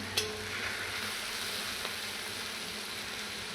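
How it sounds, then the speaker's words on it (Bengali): Ash gourd pieces fry in a pan with a steady, even sizzle that holds at a moderate level throughout, with no voices. "এখন আমি ভালো করে ভেজে নেবো"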